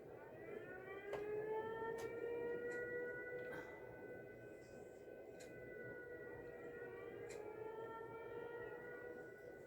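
Sirens wailing in the video game Fallout 4, rising and falling in long, faint tonal sweeps that overlap, with sharp clicks and knocks now and then.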